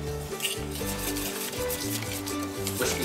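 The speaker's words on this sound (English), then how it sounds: "Whisking vigorously to make sure you get all the lumps out of there" Pancake batter of flour and eggs is whisked vigorously in a bowl, a close, continuous rhythmic scraping and rubbing with faint clinks of the whisk against the bowl.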